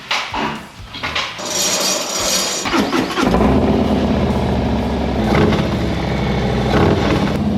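A 2022 Harley-Davidson Low Rider ST fitted with a velocity-stack air filter runs while warming up, its engine rumbling loudly and steadily with a few throttle blips, no voices.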